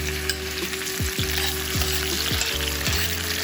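Peppers frying in a pan for ackee and saltfish give a steady, close sizzle. Soft stirring knocks recur every half second or so.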